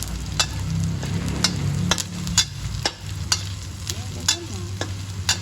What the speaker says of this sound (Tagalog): Halo-halo nyo yung ating sibuyas natin.